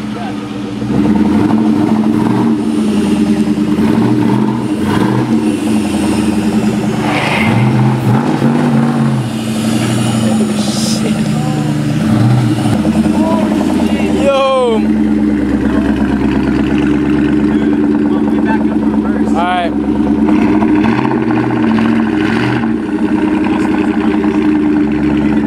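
A Shelby Cobra with a new McLeod RST clutch runs steadily at a loud, close idle, its engine rumble rising in a few revs, while people talk over it.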